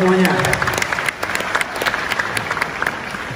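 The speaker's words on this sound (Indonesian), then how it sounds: "Tepuk tangan untuk kalian semuanya." Steady applause from a lecture-hall audience of students and guests at a public university lecture in Gorontalo, dense and continuous at close range, with a voice briefly heard over it near the start.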